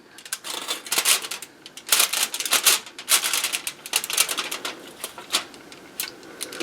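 Aluminium foil is pulled apart in a pan for a festive apple tart, giving a run of sharp crinkling, crackling bursts in quick irregular clusters, close and fairly loud with no voices.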